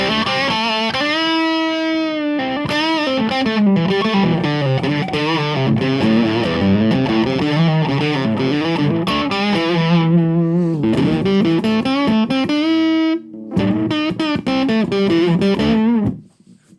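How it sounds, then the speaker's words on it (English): An Ibanez Roadstar RS315 electric guitar plays a distorted, wavering line as its tone knob is adjusted, the tone swelling and darkening as it shifts, loud and close, ending with a short break and a final burst. "you can hear the tone being adjusted when I touch the tone with its tone cap."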